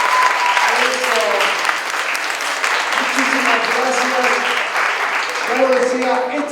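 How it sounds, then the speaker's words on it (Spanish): Steady applause from an audience at a brain-science conference fills the room, a dense continuous patter lasting several seconds, with voices speaking over it. "Les pido un fuerte aplauso"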